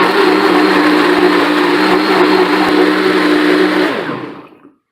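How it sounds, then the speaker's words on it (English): A blender on medium speed whirs steadily for about four seconds, grinding eggshells, banana peels and coffee grounds into worm feed, then spins down to silence. "we're gonna put that in the blender. And then I'm gonna hit it on medium"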